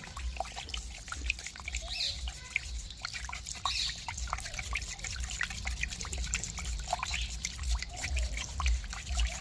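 Homemade liquid bio-pesticide is stirred and mixed for a garden or farm, giving a continuous, fairly quiet sloshing and trickling of liquid with small drips throughout.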